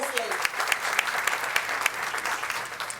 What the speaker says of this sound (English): yes, that deserves applause